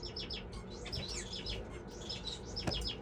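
Finches in a bird room chirp in quick, high, overlapping tweets, soft and steady, with a brief clack near the end.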